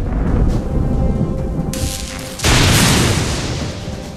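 Lightning strike boom in the South Park: The Stick of Truth video game, loud and alone, with a rumbling roar before a sudden sharp crack that booms and rolls on.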